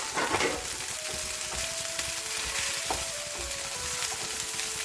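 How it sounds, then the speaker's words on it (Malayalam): Chopped sweet potato frying and being stirred in a pan for a Kerala-style mezhukkupuratti, a steady close sizzle with occasional scraping and stirring knocks, no voices. "ഇനി നമുക്കിതിലേക്ക് ആ മധുരക്കിഴങ്ങ് അരിഞ്ഞ് വെച്ചിരിക്കുന്ന കൂടി ചേർക്കാം."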